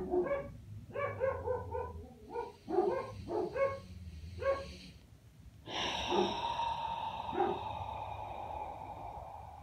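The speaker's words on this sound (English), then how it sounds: "Dogs." Dogs bark in a quick series of close, loud yaps for several seconds, followed by a steady broadband hiss with a short bark over it near the end.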